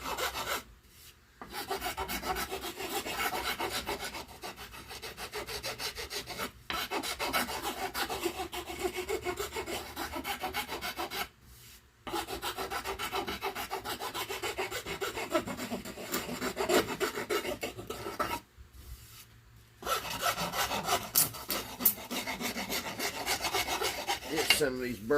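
Rasp or file smoothing burrs off a handmade wooden boomerang, steady rhythmic scraping strokes in long bursts broken by a few short pauses, close and fairly loud with no talking.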